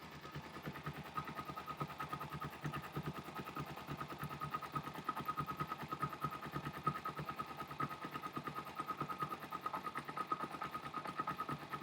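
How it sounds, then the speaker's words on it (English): Motorcycle engine idling steadily while the carburetor pilot jet screw on the number 1 cylinder is adjusted, a continuous close, even mechanical chugging with a fine rapid pulse and no talk. "see if you can actually hear the difference in the motor run"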